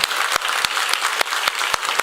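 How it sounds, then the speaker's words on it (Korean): A church congregation claps in encouragement, sharp irregular claps over a dense wash of hand applause, close and lively, with no talk. "격려 박수 한번 쳐주시기 바랍니다."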